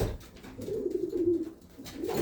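Young racing pigeons coo in a low, soft, rolling murmur, close by and continuous with a brief dip near the end, and no talk over it.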